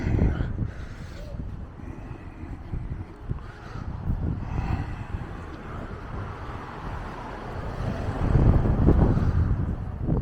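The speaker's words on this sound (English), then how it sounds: "that wind's picking up again as well" Gusty outdoor wind buffets the microphone on a Blackpool street, a rumbling roar that swells and eases and grows strongest near the end, with faint traffic beneath.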